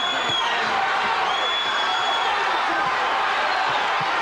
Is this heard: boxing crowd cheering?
yes